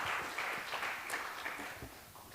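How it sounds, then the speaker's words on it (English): Audience applause at the close of a university guest lecture on proactive threat detection, a steady broad clatter of many hands sustained throughout at moderate level with no talk over it. "Please give big applause to Mr. Yair and Pak Doni."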